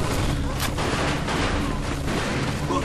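Machine gun fire in the video game Mafia II, a dense continuous rattle of rapid shots with booming impacts filling the scene, loud and close with shouting mixed in.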